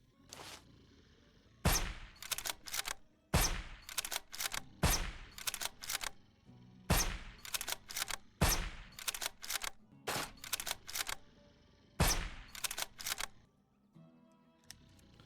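Rapid bursts of automatic gunfire in the survival video game SurrounDead, several loud clusters of sharp shots separated by short pauses, close and dominant, with no speech.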